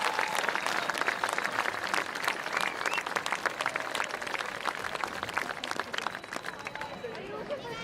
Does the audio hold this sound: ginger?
no